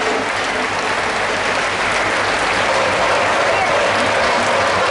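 Dense, sustained applause from a large outdoor crowd at a Hanuman Chalisa recitation event on Maharaja College grounds, loud and steady across the whole stretch with no pauses.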